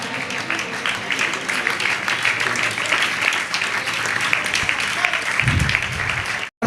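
A crowd at a Jain honour ceremony in Itarsi keeps up loud, steady applause, with a few low voices or murmurs breaking through near the end before it cuts off abruptly.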